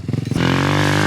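A pit bike engine revs hard on a freestyle ramp, sputtering in choppy bursts and then rising into a loud, sustained, close-up whine.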